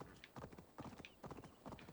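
A horse's hooves clip-clop in Assassin's Creed Valhalla, a quiet, even trotting rhythm of paired beats repeating across two seconds.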